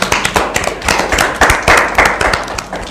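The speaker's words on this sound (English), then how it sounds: "let's clap for ourselves" A group of people clap for themselves in irregular, overlapping bursts, close and fairly loud, with uneven rhythm and no talking.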